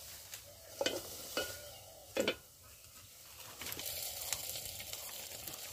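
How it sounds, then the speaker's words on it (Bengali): Ginger, garlic and cumin paste frying in a pan over a village clay stove, a soft sizzle with several sharp stirring scrapes, a faint background coo-like sound, fairly quiet overall. "তো এটা এখন ভেজে নেবে।"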